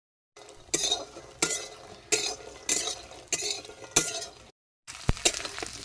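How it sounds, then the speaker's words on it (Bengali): Bori lentil dumplings fry in hot oil in a wok, giving a steady sizzle broken by regular spoon-against-metal clinks and stirring scrapes roughly every half second. The sound is close and fairly loud, with no talking. "তেল গরমও হয়ে গেছে, আর বড়িগুলো ভাজা করে নেব।"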